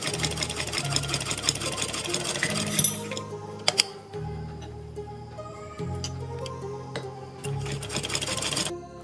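Electric sewing machine stitching a folded fabric strip around a kurti neckline, running in steady bursts of whirring stitches separated by short pauses and clicks, close and fairly loud.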